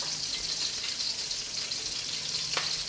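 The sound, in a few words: garlic and onions frying in oil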